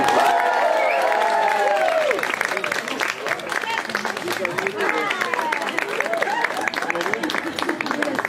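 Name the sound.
audience applause at tattoo convention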